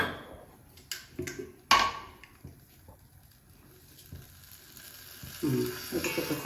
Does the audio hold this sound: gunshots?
no